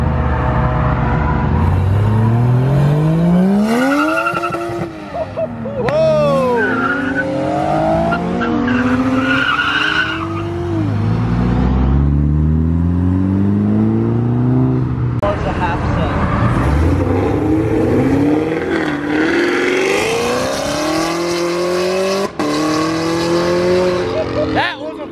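A V8 car at an illegal underground car meet revs hard in rising and falling sweeps as its tires squeal and skid loudly for a long stretch, with shouting voices mixed in.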